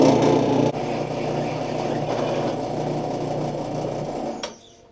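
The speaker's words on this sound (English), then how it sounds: "So yeah, we'll drill that and then flip the wheel." A drill bores a hole through a mini bike wheel during a CVT torque converter install on an 11HP Tecumseh engine. A loud, steady motor whine runs close by, then winds down and stops near the end.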